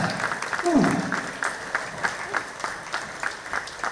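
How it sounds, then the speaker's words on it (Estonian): Applause for swimming coaches at the opening of a mini-spa at a sports hall in Valtu, a steady crowd clapping indoors for several seconds, with a brief voice surfacing early on. "aplaus meie ujumistreeneritele"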